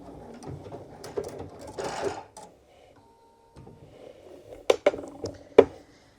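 A sewing machine runs in bursts of rapid stitching through fabric, with a back stitch over about an inch of the seam; whirring motor runs with sharp clicks and knocks between them, close and clear.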